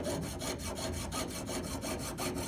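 Hand saw drawn back and forth through metal with a waxed blade, a steady rasping cut of about a dozen quick, even strokes, close and alone.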